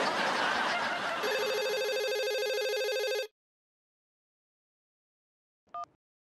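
A telephone rings loudly with a steady electronic ringtone for about two seconds over a rough burst of noise, then cuts off; after a silence, one short tonal blip sounds.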